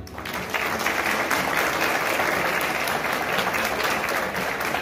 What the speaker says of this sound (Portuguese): que recebem também o nosso aplauso